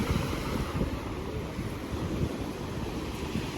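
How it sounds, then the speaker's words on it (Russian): Gentle sea waves washing steadily on a calm Black Sea day near Tuapse, a continuous soft surf wash with some wind noise on the microphone, no voices. "Море успокаивается, все хорошо."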